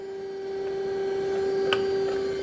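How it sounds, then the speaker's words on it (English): Hydraulics on a press brake give a steady, faint electric-sounding hum that holds one unchanging tone throughout, with a soft click near the end. "But if you can hear the hydraulics right now"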